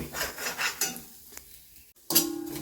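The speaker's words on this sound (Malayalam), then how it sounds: "ഇനി നമുക്ക് ഇളക്കി നല്ലപോലെ വറുത്തെടുക്കണം" Spices scrape and rustle as they are stirred and roasted in a pan for Kerala-style prawn theeyal, close by, in uneven strokes with short pauses between.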